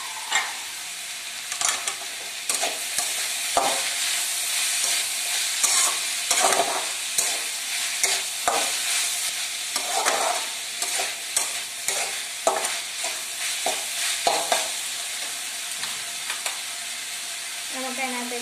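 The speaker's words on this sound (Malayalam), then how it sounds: "അടുത്തായി നമുക്ക് തക്കാളി ചേർത്തെടുക്കുകയാണ്" Tomatoes stirred into a frying pan of spicy Kerala-style chicken curry, with steady loud sizzling and repeated scraping strokes of a spoon close by, no talk.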